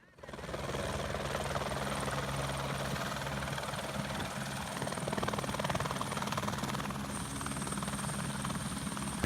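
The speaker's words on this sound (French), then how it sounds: "l'hélicoptère s'apprête à faire une reconnaissance aérienne" A helicopter on an aerial reconnaissance flight, its steady rotor thump and engine drone filling the air continuously, loud and close, with a faint voice underneath.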